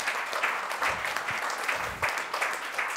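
Audience applause at a televised panel discussion, a steady patter of clapping lasting about three seconds, moderately faint and heard alone.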